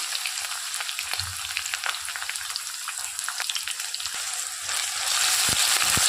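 Crushed garlic, cumin, green chillies and onions frying in hot oil in a home kitchen, a continuous crackling sizzle with popping bursts that grows louder and fuller toward the end.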